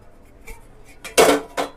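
Metal clatter from the lid being lifted off a pot of prawn biryani, a few faint clinks followed by one loud scraping clang and a shorter knock, close and with no talking.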